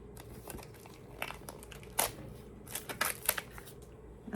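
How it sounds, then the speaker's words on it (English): A package holding inserts is ripped open by hand, close crinkling and tearing of paper and plastic in irregular bursts, quiet and without speech. "just rip things apart"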